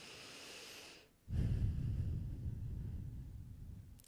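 A person takes one long, slow breath in through the nose, close and soft, after a short quiet pause.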